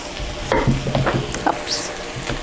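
Potatoes being stirred in a pot for lentil soup with chorizo, close scraping and clattering strokes in a quick irregular rhythm over a soft sizzle.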